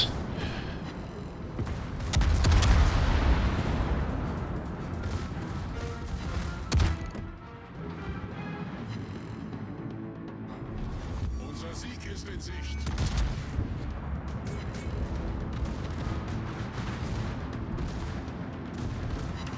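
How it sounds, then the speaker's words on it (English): Video game naval battle with German battleship main guns firing, heavy booming salvos and rumbling explosions layered over a dense, continuous battle din that swells and dips. "Superior German firepower every time."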